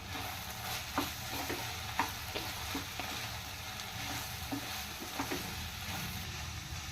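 Coriander powder being stirred into a snake gourd milk curry in a pan, with a steady low sizzle of frying and repeated soft scraping strokes of a spoon against the pan, fairly quiet with no talk.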